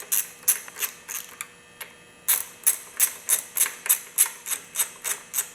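A wrench tightening the handlebar bolts on a bike, heard as a close, regular series of crisp ratcheting clicks, one burst, a short pause, then a longer even run of about a dozen clicks.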